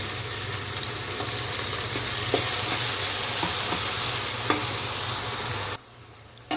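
Ground gooseberry paste with chilies fries in oil, a steady close sizzle with light stirring taps, before the sizzle drops away sharply near the end.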